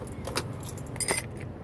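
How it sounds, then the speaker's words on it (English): Car keys on a 2014 Kia Soul jangle briefly as they are pulled from the ignition during interior trim work, a few light metallic clinks close by with a sharper burst near the end, no talking. "take the keys out, because the bottom trim actually goes over the keyhole"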